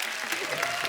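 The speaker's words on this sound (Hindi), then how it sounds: "इनके लिए जोरदार ताली" Brisk studio audience applause on a Hindi comedy talk show, a dense burst of clapping filling the full second with a voice faintly mixed in.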